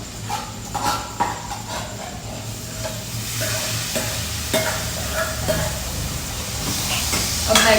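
Carrots and peas sizzle and hiss in a hot pan, with repeated scraping stirs breaking through the steady frying noise close up.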